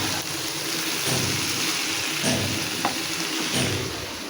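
Vegetable bhaji fries in a pan with a steady, close sizzle and faint clicks of stirring, and no one speaks.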